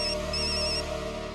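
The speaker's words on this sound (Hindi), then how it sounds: "फोन क्यों नहीं उठा रहे?" A phone rings in an Indian TV sitcom household scene, playing a steady, continuous electronic ringtone melody at moderate volume with no voices over it.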